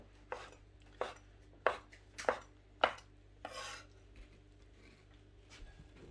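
A knife chops food for spring roll noodles in five or six sharp, evenly spaced strikes on a board, followed by softer stirring and handling noises.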